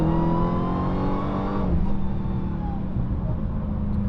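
Dodge Hellcat Redeye at full throttle with windows up, loud engine roar climbing with a supercharger whine, then easing off slightly after a gear change, heard from inside the car without talk.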